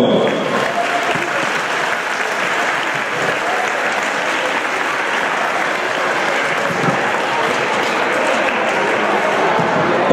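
Sustained audience applause at an amateur sports tournament prize giving, a steady dense wash of clapping from a sizeable crowd lasting the whole stretch with no pause.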